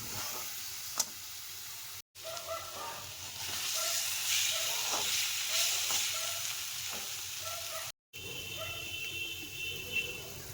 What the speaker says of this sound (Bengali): আস্তে আস্তে করে কষিয়ে নিব